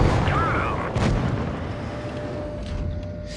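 A World of Tanks Blitz tank gun fires with a heavy boom followed by the metallic ricochet of a shell glancing off a turret, rumbling battle noise continuing underneath.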